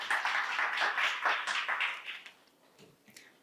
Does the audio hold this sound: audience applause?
yes